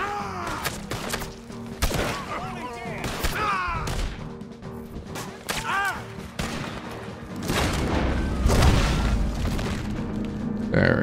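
Gunfire in the video game Red Dead Redemption 2, with sharp repeated shots and booming impacts scattered throughout, mixed with in-game sound effects; a voice speaks briefly in between.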